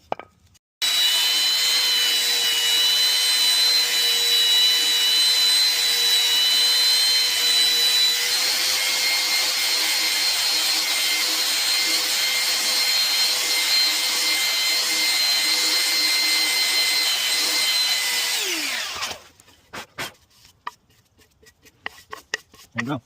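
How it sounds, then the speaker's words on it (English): A wooden board is sanded with a power sander that holds a steady, loud, continuous whir for most of the stretch, then winds down, leaving scattered handling knocks. "So I got my board sanded."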